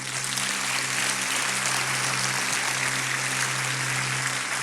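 Steady applause fills the room at a church service, a continuous wash of clapping with a low hum underneath and no pauses.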